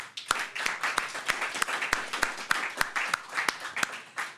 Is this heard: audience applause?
yes